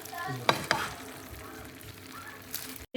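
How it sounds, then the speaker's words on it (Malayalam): Moose meat tossed in a pan with ginger and onion, a spoon scraping and stirring through the sizzling mixture, with a couple of sharp clacks early on and a steady fry underneath. "ഇതെല്ലാം കൂടി ഒന്ന് നമുക്ക് മിക്സ് ചെയ്തെടുക്കാം"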